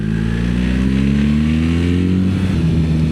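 A BMW GS motorcycle engine drones steadily while riding, loud and close, its harmonic pitch climbing slightly as it pulls and settling again toward the end, with no voices.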